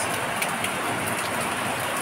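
Heavy rain pours steadily and loudly, a dense, even hiss of drops with no break, likely drumming on and around a parked seven-seater SUV outdoors.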